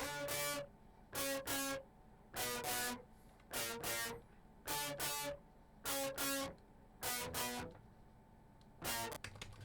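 Soloed distorted electric guitar tone with an octave-up effect, playing clipped, rhythmic stabs in a repeating pattern with short gaps between pairs of hits, loud and dry with no other instruments.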